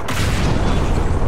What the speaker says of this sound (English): Oh, I hit him with the grenade.